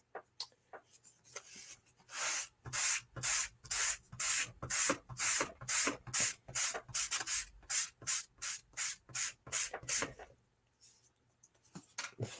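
Foam being sanded for a dragon puppet build, a steady run of rhythmic rubbing strokes, close and fairly loud, each stroke a short raspy burst repeating for about eight seconds before stopping.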